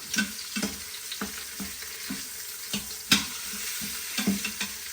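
Pieces of food fry and sizzle in a pan with a steady hiss, broken by intermittent scrapes and knocks as they are flipped one after another, close up and without talk.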